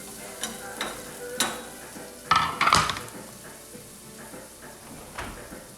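Finely chopped onions hit a pan and crackle, with a sharp burst of sizzling and a few clanks of a utensil against the pan, followed by a low, steady frying hiss.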